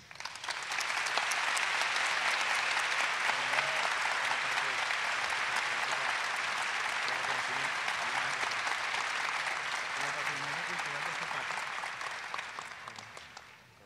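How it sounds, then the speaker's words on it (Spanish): An audience applauding in a dim hall at a Venezuelan Ministry of Culture tribute, sustained, even clapping that swells in quickly, holds for over ten seconds and tapers off at the end. "Oírlos aplaudir en esa penumbra"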